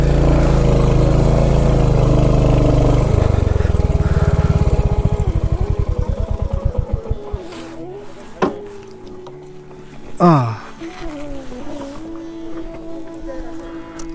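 A Royal Enfield Hunter 350 motorcycle idles loudly up close with a deep thumping beat that slows and dies away as the engine is switched off, followed by quieter handling noises and a brief squeak.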